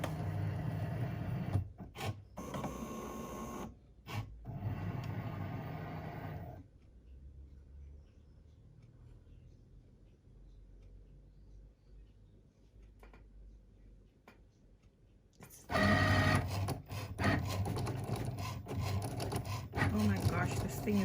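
Cricut Maker 3 cutting machine running at speed, its soft mechanical whir and ticking carriage movements heard faintly and steadily in a quiet room, with people talking before and after.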